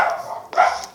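Two sharp, close dog barks about half a second apart, heard during a Minecraft Sky Wars gameplay recording, loud and short with no talk over them.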